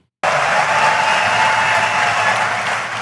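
An audience at a Bitcoin conference bursts into loud, sustained applause and cheering, starting abruptly from silence and holding steady as a dense wash of clapping.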